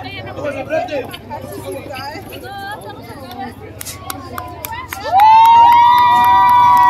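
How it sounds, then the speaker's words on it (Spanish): Crowd shouting and cheering at a rodeo and dance in Jerez, Zacatecas, a steady babble of voices and calls with whistles and a louder sustained swell of cheering near the end. "Ahorita nos vemos allá la gente que nos está gritando"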